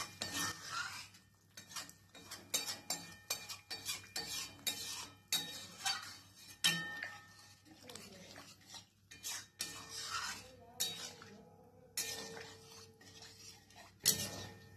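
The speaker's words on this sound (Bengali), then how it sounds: "এরপর এই স্টেজে আমি চানাটা দেব। ব্যাস, এরপর সবকিছুকে ভালো করে মিশিয়ে নেব।" A spoon scrapes and clinks against a pot as chickpeas are stirred into cooked spice masala for a wedding-style chana paneer, with repeated close metallic scrapes and taps at an uneven rhythm and no voices.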